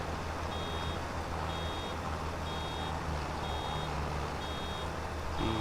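A vehicle in the Farming Simulator 25 video game gives out evenly spaced electronic reversing beeps, about one per second, over a steady low engine hum, with a brief horn-like tone at the very end.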